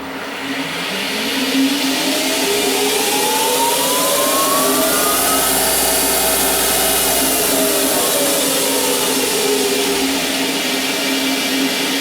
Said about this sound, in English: Now let's reverse it. It should spin down in 6 seconds and then spin back up in another 6.